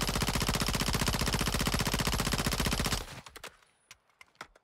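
Submachine gun in Modern Warfare II emptying a full magazine in one long rapid automatic burst, loud and close, cutting off abruptly, followed by a few scattered distant shots and clicks.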